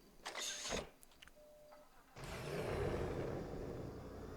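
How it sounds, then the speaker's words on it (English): A DeLorean car engine in the GTA V video game cranks and catches, then settles into a steady, loud running rumble after a brief mechanical whir. "the sound of the DeLorean starting up does sound really cool"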